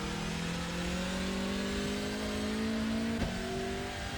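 A Hyundai TCR race car runs on the Daytona circuit, its engine note droning steadily and climbing gradually in pitch as it accelerates, heard from inside at close range with no talk.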